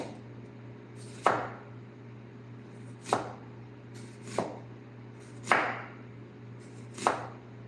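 A knife slices a red onion thinly on a cutting board. Five crisp, separate chops land about a second or two apart over a low steady background hum.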